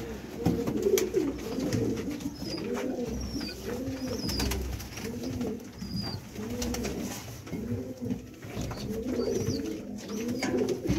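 Pigeons of a black-faced Sialkoti breed coo steadily in a repeating rolling rhythm, close and clear, with a few faint higher chirps over a constant background hiss and no voices.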